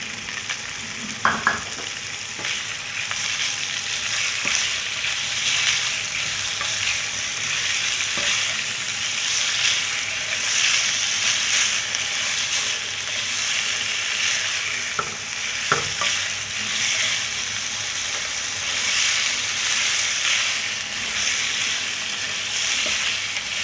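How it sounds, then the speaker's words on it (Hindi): Chicken pieces fry with ginger-garlic paste in a pan, giving a steady close sizzle with a few sharp stirring clacks throughout, and no talking. "इसको हम थोड़ा सा फ्राई कर लेते हैं ताकि ये जो है अच्छे तरीके से थोड़ा सा पक जाए।"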